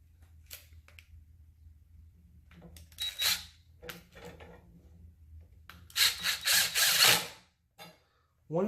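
A bolt is tightened to fix a handle to a rod, with short bursts of ratcheting clicks and mechanical rubbing, up close, separated by quiet gaps.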